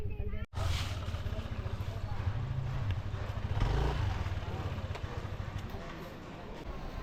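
A Yamaha Aerox 155 scooter runs on Boracay near Puka Beach, its engine a steady close drone throughout after a brief drop at the start, with people talking over it.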